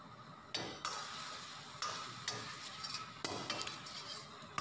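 Egg bhurji stirred in a pan over a raised gas flame, with a steady sizzle behind repeated scraping and clinking strokes of a spoon against the pan, close and fairly quiet.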